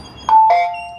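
A front doorbell rings once with a loud, close two-tone ding-dong, the second tone lower and trailing off in a short decay.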